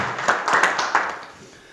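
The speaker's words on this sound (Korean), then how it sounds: "큰 박수로 모시겠습니다" Applause at a party welcoming ceremony greets a speaker. There is a short burst of scattered clapping from a modest crowd, moderately loud, that thins out and fades within a couple of seconds.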